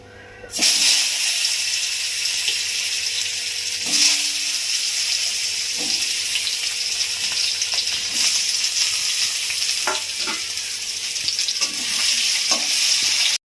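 Potatoes frying in hot oil in a pan, a continuous loud, close hiss and crackle with occasional soft scrapes and knocks of a utensil, with no talking.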